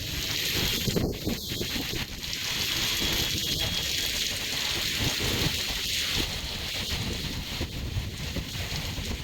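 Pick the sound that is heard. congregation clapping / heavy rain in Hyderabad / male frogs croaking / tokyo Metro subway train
heavy rain in Hyderabad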